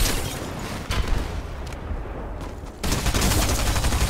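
The Anvil rocket launcher firing in Fortnite gives a loud blast and rumbling explosion, then a quieter stretch, then another burst of heavy combat noise.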